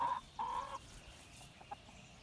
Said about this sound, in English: Dang chickens.